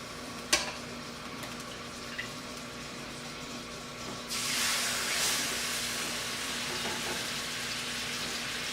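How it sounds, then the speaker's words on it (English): A sudden loud sizzle starts partway through as chicken breast goes into a frying pan and continues steadily, following a couple of light clinks in an otherwise quiet kitchen. "So now I'll place my chicken breast in the frying pan."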